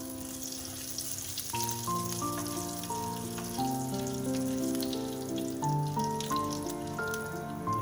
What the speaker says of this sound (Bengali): তেলটা গরম হয়ে গেলে এর মধ্যে হাফ চামচ গোটা জিরে ফোড়ন দিয়ে দিচ্ছি।